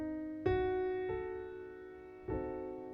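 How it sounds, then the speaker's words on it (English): A diminished chord is played on a sustained keyboard instrument, struck three times in a slow, steady rhythm, each attack ringing on at moderate loudness. No one speaks. "That is a diminished chord."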